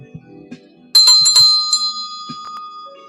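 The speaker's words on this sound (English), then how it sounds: "Yeah, I should just ring the bell." A bell rings out after a brief stretch of low handling noise, striking a few quick bright tones in succession and leaving a clear, sustained ringing that fades slowly; no one talks.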